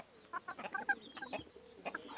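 Chickens cluck in a garden with chicks about, including brown bantam hens and white Ispenc hens, giving a run of short, close, uneven clucks and calls with no talking.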